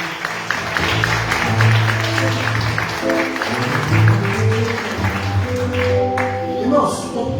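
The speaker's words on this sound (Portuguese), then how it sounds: "Dê uma linda salva de palmas ao Senhor Jesus." A church congregation claps during a Holy Communion service, with a dense patter of hands layered over sustained music and voices, continuing steadily throughout.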